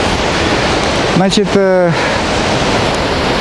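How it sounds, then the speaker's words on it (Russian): The Tosno waterfall, a Niagara-type falls, pours as a steady, loud broadband rush throughout, while someone speaks briefly over the roar near the middle. "Ну вот, Тоснинский водопад."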